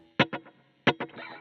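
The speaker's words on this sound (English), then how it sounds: "Just one echo, that's all you need, no modulation on it" Electric guitar through an Empress Echosystem set to a single echo repeat with no modulation, two plucked notes each followed by one clear delayed repeat, close and dry in an old-school rock and roll style.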